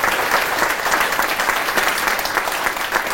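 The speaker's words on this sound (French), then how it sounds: "Oui, on peut les applaudir encore." A crowd at a mayor's 2023 New Year speech claps steadily and energetically, a continuous wash of applause with no pauses.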